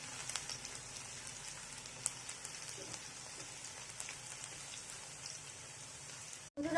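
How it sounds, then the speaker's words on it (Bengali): Chopped garlic, ginger and chilli sizzle in hot oil in a pan with fried momos, a steady dense crackling hiss with occasional louder pops, close and continuous. "আমরা গরম তেলে রসুন কুচি, আদা কুচি, লঙ্কা কুচি দিয়ে একটু নাড়াচাড়া করব"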